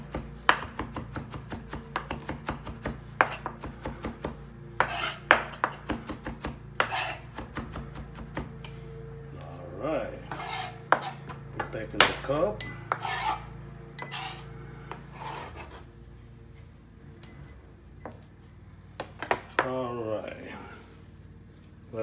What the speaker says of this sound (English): Smash them like that and cut them real fine.